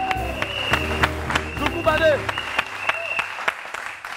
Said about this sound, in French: Est-ce qu'on peut applaudir Zoukou Badé?